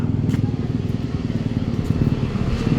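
A motorcycle passes on a village road, its engine a loud, steady rumble that fills the whole stretch without letting up.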